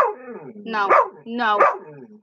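A dog gives two loud, close barks about half a second apart, each with a strained, yelping, whine-like edge.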